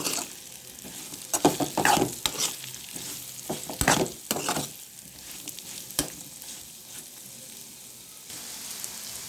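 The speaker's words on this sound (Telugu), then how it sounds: "చక్కగా అంతా కలిసేలాగా ఫ్రై చేసుకోవాలి." Raw banana slices stir-fried in a pan with coriander powder and coriander leaves, a steady close sizzle under repeated scraping strokes of a spatula, alone without talk.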